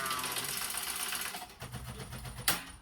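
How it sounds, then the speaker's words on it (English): Sewing machine running a final top stitch around the opening of a lined clutch bag, a steady rapid whirring hum that pauses briefly, then resumes with a sharp snapping click near the end. "I would just close that opening by doing a final top stitch around"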